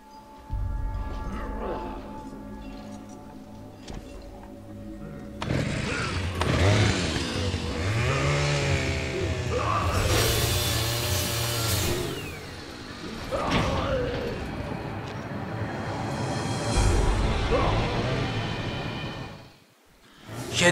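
A chainsaw-wielding enemy in the video game Resident Evil 5 revs a buzzing, wavering engine through the middle of a long stretch of loud game action with thuds and clanks, and players chat over it.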